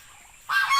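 A pet goose lets out a short, loud honk close by, bursting in suddenly after a quiet moment.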